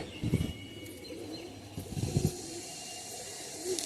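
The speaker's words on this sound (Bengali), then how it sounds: "পায়রা দেখো বন্ধুরা" Pet pigeons coo nearby in two soft, low bursts of throaty burbling separated by a quiet pause, with faint background hiss and a third murmur at the end.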